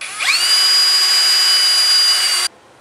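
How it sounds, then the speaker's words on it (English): A power drill spins an old engine valve braced against a knee, grinding off carbon deposits; a steady high-pitched whine rises quickly, holds for about two seconds, then cuts off abruptly, close and loud with no talking. "run the drill up until it cuts off the rest of that carbon"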